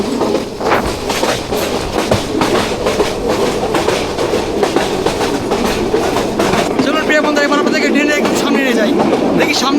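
A Bangladeshi passenger train, the Dolonchapa Express, runs at about 80 km/h with a loud, constant roar and rapid rhythmic clatter heard from inside a carriage; a voice speaks over it and a brief high squeal comes near the end.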